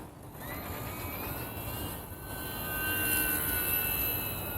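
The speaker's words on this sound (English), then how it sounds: "when you want to just increase throttle, then the airplane would just climb and" A Horizon Hobby T-28 Trojan S radio-control model airplane flies overhead, its electric motor giving a steady, thin whine that swells slightly as it nears, with faint wind noise and no talk.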